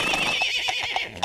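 A horse neighs in the video game Jazzpunk: a shrill, close whinny with several quick pulsing bursts over about a second, ending in a sharp final squeal.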